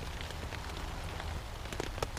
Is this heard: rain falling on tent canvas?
yes